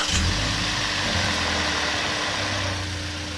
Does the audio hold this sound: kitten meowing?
no